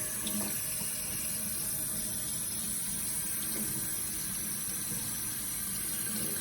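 Hands rinsed under running tap water during a clinical hand scrub at a sink, a steady close rushing stream of water with slight splashing throughout.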